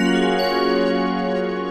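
A clean sampled preset from the original WaveFrame unit rings out as a bright, bell-like tone, sustaining steadily at a fairly loud level with a slight shimmer, on its own without voices.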